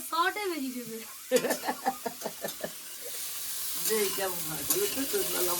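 Vegetables sizzle and hiss as they fry in hot oil, a steady background crackle beneath a woman's nearby conversation.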